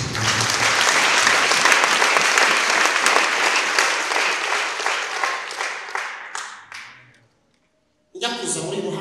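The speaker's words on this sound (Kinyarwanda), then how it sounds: "Amashyi ku Mana yacu" Loud, sustained applause from a church congregation, dense and steady for about seven seconds before tapering into silence, then a burst of sound returns near the end.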